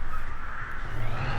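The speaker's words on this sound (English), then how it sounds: "crows, because they are very prominent when you're in the yard." Crows cawing in a farmyard in the Farming Simulator 2015 video game, a harsh repeated calling that sounds close and fairly loud over a steady background hum, with no talking.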